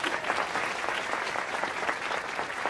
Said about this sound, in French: Et je vous demande aussi d'applaudir bien fort la femme exceptionnelle qu'est Terry Carpenter.